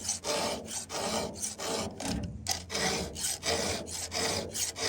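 A metal file rasps steadily across a chainsaw chain's cutters during sharpening, loud and close, in repeated rhythmic strokes of about half a second each with short gaps between them, no talking.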